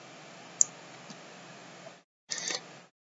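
A computer mouse gives one sharp, close click over faint background hiss, followed by fainter ticks and a short burst of noise.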